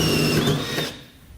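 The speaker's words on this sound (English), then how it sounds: "Now we're just going to move on to our other hole using a 3/4 inch hole saw," A power drill turns a 3/4 inch hole saw, cutting a hole during installation of an underbed fifth wheel trailer hitch kit on a 2011 Dodge truck, with a high whining bite that winds down and fades after about a second.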